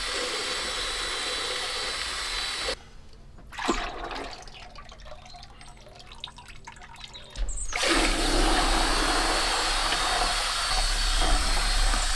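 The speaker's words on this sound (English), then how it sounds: "I'm going to give them a good stir in the can as well" Decking oil stirred in its tin, a steady wet, sloshing noise that falls to a quieter stretch midway through and then returns louder and continuous.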